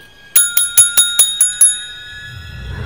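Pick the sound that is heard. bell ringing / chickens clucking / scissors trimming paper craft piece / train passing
bell ringing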